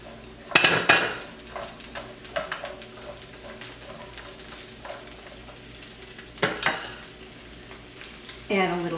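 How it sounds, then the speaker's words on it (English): Green beans go into a frying pan with shallot already browned: sharp clattering impacts as they land, then quieter sizzling with scattered scrapes and knocks of cookware, a second burst of clatter near the end. "So now I'll place my green beans in."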